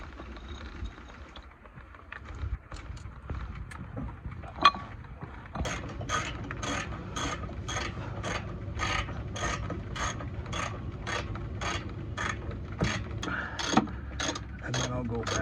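Ratchet tightening nerf bar bolts on a 2009–2018 RAM 1500 Quad Cab, a steady run of close, evenly spaced clicking strokes after a few quieter handling sounds at the start.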